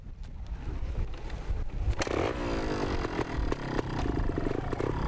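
A 250cc two-stroke trials motorcycle engine fires up at a competition, settling into a steady, busy idle and rasp that continues throughout without speech.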